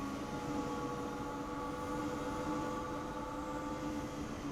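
A Class 411 high-speed train runs steadily in Train Sim World 6 near Frankfurt Hbf, giving off a continuous, even rumble with a faint tonal whine throughout and no voices.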